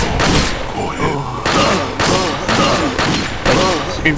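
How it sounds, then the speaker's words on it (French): Rifle gunshots in Resident Evil 4 fire in a quick run of about seven or eight loud, booming blasts, each roughly half a second apart, over a constant game backdrop. "Une balle de fusil dans la tronche"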